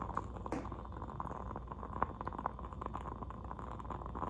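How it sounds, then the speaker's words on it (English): A wooden-wick candle crackles like a small fireplace, giving faint, irregular soft pops and ticks over a quiet background hiss. "they have wood stick instead of thread, and they crack like real fireplace"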